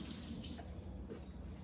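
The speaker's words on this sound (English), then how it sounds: "I'm going to add just another 1/2 cup of water for brown rice" Water poured into a pot for cooking brown rice, a soft continuous hissing splash that stays faint and steady throughout.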